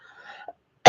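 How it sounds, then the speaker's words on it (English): A single sharp, loud cough bursts out at the end, after a stretch of faint background murmur and a brief small sound. "Sorry, I'm trying to avoid a coughing fit here."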